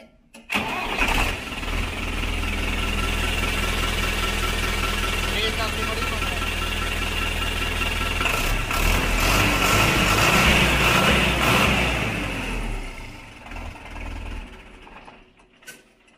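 A tractor offered for sale cranks and fires up, then runs at a loud, steady, rumbling idle for several seconds before the engine tone drops and fades. People talk nearby.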